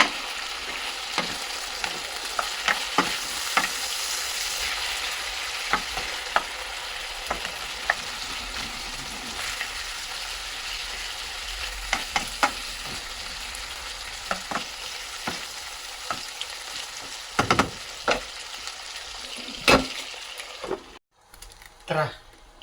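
Chicken sautéing in a pan while being stirred, a continuous close sizzle broken by regular scraping strokes and clacks of the spatula, with a voice talking at points.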